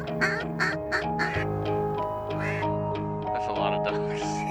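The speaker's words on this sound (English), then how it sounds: "That's a lot of ducks." A noisy chorus of many ducks quacking at once, loud and continuous, with a person speaking over the flock, during a duck hunt over a frozen bean field with floater decoys in Oklahoma.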